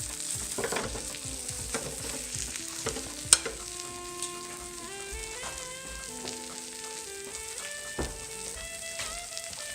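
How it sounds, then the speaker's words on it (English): Veal cutlet sizzles steadily in a pan after being flipped, with a few sharp taps and scrapes, under faint background music. "once that veal has cooked for a little bit on one side, take it, flip it over, and get the other side"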